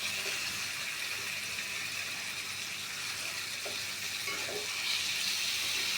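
Meat frying and being stirred in a kadai makes a dense, even hiss of sizzling oil up close, with a few soft scraping knocks partway through and no talking.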